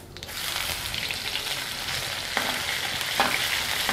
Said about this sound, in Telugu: దీన్ని బాగా వేయించుకుందాం